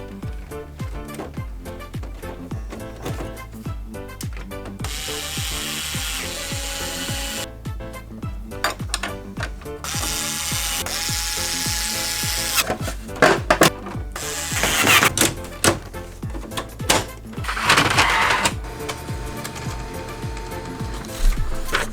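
A Samsung SCX-4200 laser printer, freshly fitted with a new paper pickup roller, runs a test page: loud mechanical whirring, clicks and ratcheting feed noises in bursts, rising toward the end.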